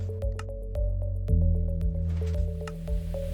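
Minecraft dispensers release water in repeated soft squishing splashes over a droning musical background, several liquid bursts in an uneven rhythm with no speech.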